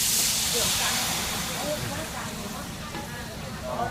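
Water is poured into palm sugar boiling in a pan, raising a loud, steady steam hiss that fades slightly and then swells again near the end.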